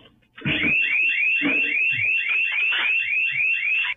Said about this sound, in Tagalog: Sa kabila ng pagtunog ng security alarm